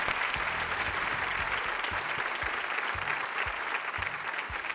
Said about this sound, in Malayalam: നല്ലൊരു കയ്യടി പ്ലീസ്